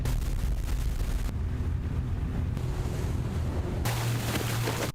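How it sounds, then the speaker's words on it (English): Lake waves splashing toward a camera by an island shore, a loud continuous wash of water buffeted by heavy wind noise on the microphone, shifting in intensity with no voices. "you can see the waves splashing, the water splashing towards my camera"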